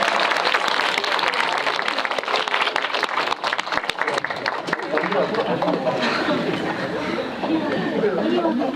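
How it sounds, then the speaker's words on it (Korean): An audience at a Korean film screening talk for the movie The House of Us welcomes a guest actress with dense clapping for the first few seconds, which gives way to crowd chatter and voices. "박수로 맞이해 주시겠어요?"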